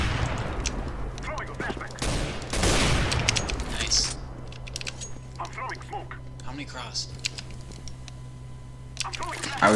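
Gunfire in Counter-Strike on the Dust2 map, bursts of rapid shots with a dense fusillade around the middle, mixed with clicks and game noise while players talk over it.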